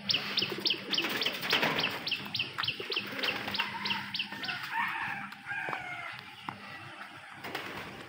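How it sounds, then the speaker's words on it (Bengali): Pigeons perched and waiting for food outdoors, with repeated chirps and coos near the mic and a rooster crowing among other birdsong around them. "অনেক সুন্দর দুটা কবুতর আমার এখানে বসে দিচ্ছে।"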